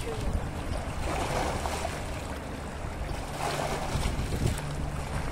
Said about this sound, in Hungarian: Látod, milyen hullámokat csap, hogy elmegy a hajó?